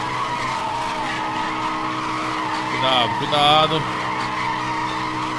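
Car drifting in Need for Speed Hot Pursuit Remastered, tires squealing in two short skids over a steady racing engine drone, with a voice speaking briefly over the game sound.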